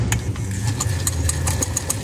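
A Singer 242 cast-iron sewing machine with an adapted motor, stitching with a steady low motor hum under a rapid, even ticking of the needle mechanism, close and alone.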